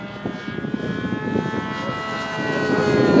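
A small, very fast RC airplane, the Killer Bee, passes overhead with a thin, buzzing engine whine that rises steadily in loudness as it approaches.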